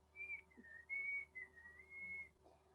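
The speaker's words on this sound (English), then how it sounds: "and began to whistle." A person whistles a short, wavering tune of several sustained notes, quiet and close, with brief pauses between phrases.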